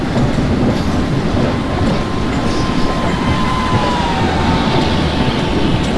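A WDG4 locomotive hauling a high-capacity parcel van rake rolls on in the Open Rails train simulator, a loud, steady rumble of wheels and wagons with a faint thin squeal running through it.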